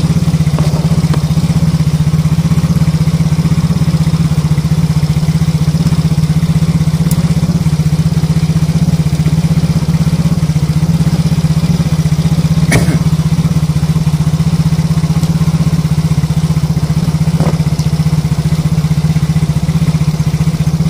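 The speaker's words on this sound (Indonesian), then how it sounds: "Ini engine masih idle" A fuel-injected Yamaha Ego S FI motorcycle engine idles with a steady, even low hum and a light mechanical clatter, close and constant for about twenty seconds.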